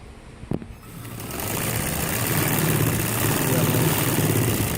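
A sewing machine stitching the button placket of a gents' kameez runs in a steady, continuous whir after a few short knocks at the start. The motor drones on closely without pause.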